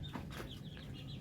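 Chickens raised on site cluck softly in a quiet, fairly distant series of short rising calls over a low rumbling background, with no one talking.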